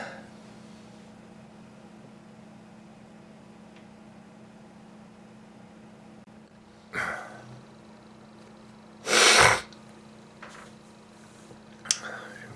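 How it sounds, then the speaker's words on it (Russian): A person sneezes indoors during a home cold, one loud sharp burst standing out after quieter snorts and sniffs against a steady low hum. "Кашляю, чихаю."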